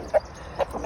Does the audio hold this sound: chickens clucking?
yes